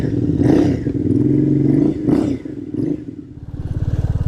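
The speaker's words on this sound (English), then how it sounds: "Now this 350 Classic is not a dirt bike, of course, but it does pretty well with this stuff." Royal Enfield 350 Classic motorcycle ridden over rough ground, its single-cylinder engine thumping steadily up close, with clattering and rattling from the bike as it bumps along, the pulsing growing more distinct toward the end.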